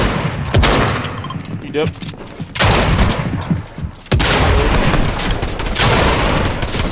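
Loud, dense gunfire in a Fortnite zone wars match comes in rapid automatic bursts that fill the sound, stopping briefly between volleys, while a player speaks a few words over it.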